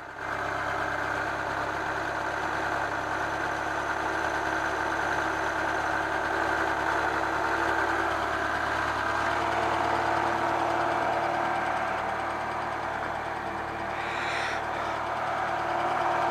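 A Citroën BX 16 TZS automatic with a freshly replaced timing belt idles steadily after restarting, its engine hum continuous and close with no talk.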